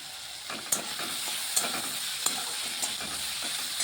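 Food stir-fries in a pan with soy sauce under a constant sizzle, while a spatula scrapes the pan in regular strokes about every three-quarters of a second.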